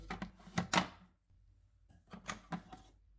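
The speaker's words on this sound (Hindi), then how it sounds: "चॉपर में अखरोट डालेंगे। इनको मोटा मोटा चॉप करेंगे।" Several quick chopping clatters of a food chopper coarsely chopping walnuts, two short clusters of sharp knocks separated by a brief pause.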